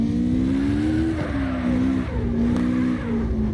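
A car drifting in CarX Drift Racing Online, its engine note rising and dipping as it slides, with tire squeal and a short sharp scrape near the end, loud and close, no voices.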